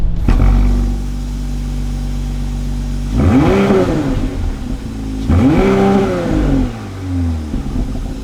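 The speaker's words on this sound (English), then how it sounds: "Sound wise from this, not too much to talk about with the V6." A 2024 Porsche Cayenne S E-Hybrid's V6 idles with a low steady hum, then revs twice in smooth rising-and-falling sweeps a couple of seconds apart, loud and close, each settling back to idle.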